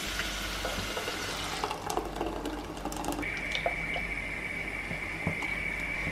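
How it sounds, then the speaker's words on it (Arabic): Tomatoes are added to a frying pan of meat cooking for Egyptian fatta, bringing a steady, moderate sizzle with scattered crackles and light scraping that continues alone without talk. "بعدين بقى هنضيف الطماطم"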